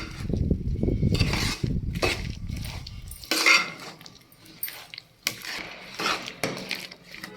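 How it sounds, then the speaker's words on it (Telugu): A spoon stirs groundnuts and sesame seeds with jaggery in a pan on a stove, scraping and clinking against the metal, with a dense, gritty rattle at first that gives way to sparser close scrapes and taps. "పల్లీలు నువ్వులు అనే మొత్తం కలపాలి"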